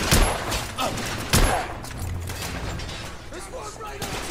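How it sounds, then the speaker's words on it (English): Rifle gunfire from the video game The Order: 1886 cracks in several sharp shots and bursts across a dockside shootout, moderately loud under a busy game soundscape. "let's use our rifle."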